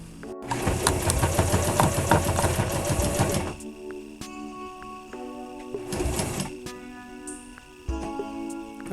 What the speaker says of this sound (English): what we're doing is we're sewing on the hold down clamps.